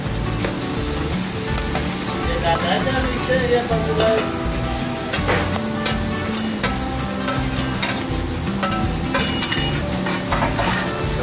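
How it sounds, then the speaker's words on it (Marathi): Chopped onion frying in hot oil with cumin in a kadhai for tempering stuffed brinjal, a loud continuous sizzle with scattered crackles and occasional stirring scrapes throughout. "तर आता आपण यात कांदा टाकून घेणार आहोत."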